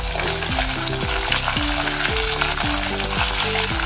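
Whole spices including cardamom and bay leaf fry in oil for chana dal pulao, a close, loud crackling sizzle with quick rhythmic spoon scrapes repeating about twice a second, no talk.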